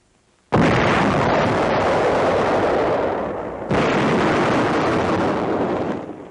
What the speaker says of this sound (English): the gunner pushes the firing button.